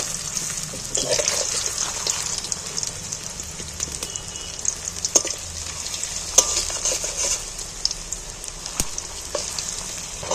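Jackfruit pieces fry in hot oil with a busy, close sizzle, broken by sharp spatter pops and stirring clicks throughout, steady and fairly loud with no talk.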